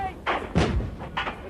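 A tank cannon fires a round, a heavy boom with a sharp thud and rumbling tail, followed by a fainter second blast, loud and close.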